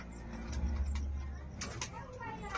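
Fancy pigeons resembling Sirazi, kept in a loft for sale, give low soft cooing close by, a few throaty coos over a faint hum with scattered clicks and rustles.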